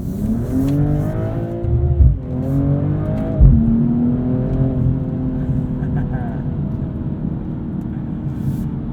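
A 2022 BMW M240i xDrive Coupe engine revving and accelerating up through the gears, heard from inside the car, with loud steady engine drone and clear pitch rises and drops at shifts.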